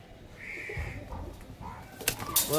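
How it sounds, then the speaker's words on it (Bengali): A young male pigeon is released from a loft and flaps its wings in a burst of beating near the end, after a stretch of handling noise and faint bird calls. "এই দেখুন পায়রা দেখুন, এই যে ছেড়ে দেবো।"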